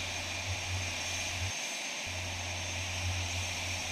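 Finnish and United States Air Force F/A-18 Hornet fighter jets at Oulu Airfield, Finland, produce a loud, continuous engine roar with a broad hiss and low rumble that briefly cuts out midway before resuming.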